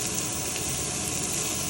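Tofu and vegetables sizzle hard in a hot wok, a loud, even, broadband crackle and hiss that stays constant throughout with no voices.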